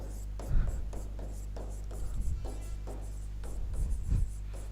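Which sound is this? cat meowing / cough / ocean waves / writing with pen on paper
writing with pen on paper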